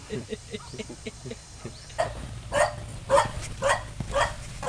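A dog barks several times in a row, fairly close, with loud sharp barks over background noise and a hissing sound.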